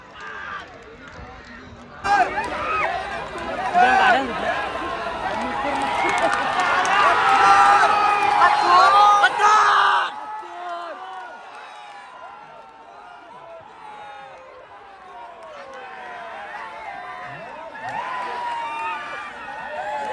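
A crowd at a bullock cart race roars and cheers loudly for several seconds, then the din drops to scattered shouting and excited chatter, with voices throughout.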